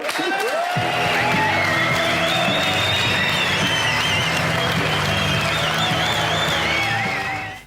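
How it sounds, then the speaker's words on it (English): A television studio audience at Top Gear bursts into a huge round of applause and cheering, loud, dense and sustained for several seconds before tapering off at the end. "I want a huge round of applause."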